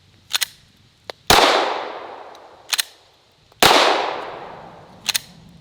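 Handgun shots at an outdoor shooting range: two loud, sharp cracks, each trailing off into a long echoing decay, mixed with fainter clicks and clacks from handling the gun, and no talking.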